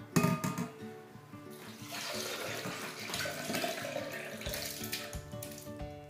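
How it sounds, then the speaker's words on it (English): Soaked oatmeal and its soaking water poured into a blender for an Ecuadorian drink, a steady running-liquid splash lasting several seconds with a louder start, no speech. "we will pour it into a blender"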